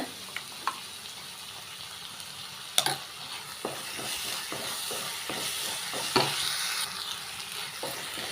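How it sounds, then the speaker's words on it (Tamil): Ginger garlic paste frying in a pan with onions and torn dried chillies for a chicken cumin fry: a continuous soft sizzle and hiss with a few sharp clinks of a spoon against the pan, fairly quiet and close. "தேவையான அளவு வந்து இஞ்சி பூண்டு பேஸ்ட்டு சேர்த்துக்கிறேங்க"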